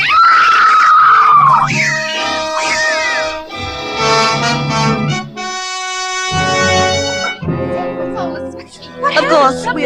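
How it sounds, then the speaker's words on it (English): A woman screams in an old-time radio suspense drama, a shrill, wavering cry that opens the clip loudly, followed by agitated voices and swelling dramatic music. "we all heard the screams coming from Diane's room"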